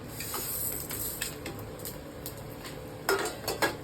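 Coriander and dried red chillies roast in oil in a pan for arachuvitta sambar, heard as quiet soft sizzling and stirring, with light spoon clinks against the pan and a few sharper scrapes near the end.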